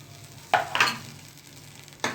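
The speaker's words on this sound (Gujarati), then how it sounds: "બહુ સરસ વઘાર આવ્યો." Spices tempering in hot oil for a Gujarati vaghar, with short bursts of sizzling and a stirring clatter, two quick crackles early on and another at the end over a quiet kitchen background.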